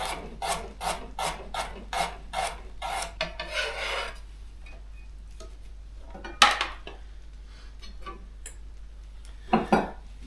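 A knife cuts thin slices from an unpeeled vegetable for curry, pasta and stir fry, making a quick run of even rasping chops at first, then a few sparse, sharper knocks on the board.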